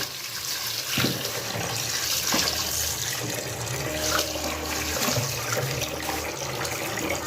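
Water runs and splashes as fish are soaked, a close, continuous tap-like gush with a few louder splashes and faint trickling, without speech.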